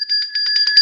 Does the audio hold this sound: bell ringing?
yes